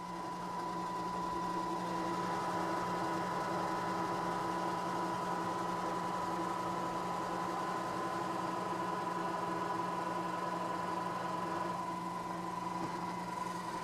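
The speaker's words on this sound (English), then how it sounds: "I'm going to remove a majority of the material with a 3/4 inch end mill" A milling machine cuts material away with a 3/4 inch end mill, a continuous steady whine with a strong tonal hum and motor drone, close and unchanging throughout with no talk.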